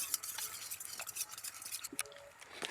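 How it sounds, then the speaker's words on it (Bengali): A spoon stirs cornflour with a little water in a bowl, a steady quiet scraping and swirling with faint clinks against the sides, close and continuous. "অল্প জল দিয়ে একটু ভালো করে মিশিয়ে নিচ্ছি"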